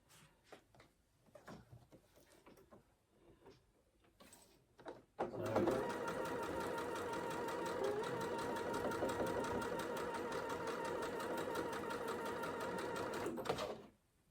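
A sewing machine chain piecing pinwheel quilt blocks runs steadily and loudly for about eight seconds, following a few seconds of quiet handling sounds and talk.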